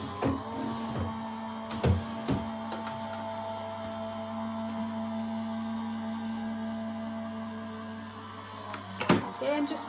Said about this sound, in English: run that through our Gemini machine